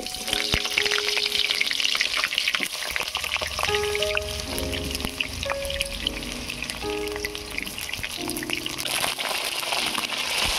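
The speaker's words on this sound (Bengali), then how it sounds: "তেল গরম হয়ে গিয়েছে, এবারে পটলগুলো ভেজে নেব" Pointed gourd pieces frying in hot mustard oil in a pan, giving a loud, continuous crackling sizzle with popping spatters and occasional stirring throughout.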